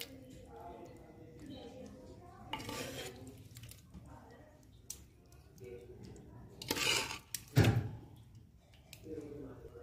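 Cooked jackfruit curry is scraped from a pot into a serving dish with a spoon, making soft scrapes and a few louder metallic clanks near the end against a quiet kitchen background.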